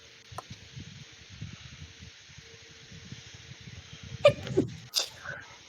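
A sharp sneeze bursts out near the end, loud and close against quiet low rustling and faint background hum, followed moments later by a second brief sound.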